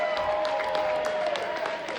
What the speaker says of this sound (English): we need to give a round of applause to Thierry for the open bar tonight